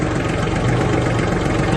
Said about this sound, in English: The tractor changes revs